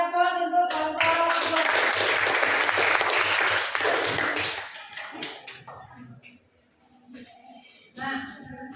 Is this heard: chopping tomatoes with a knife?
no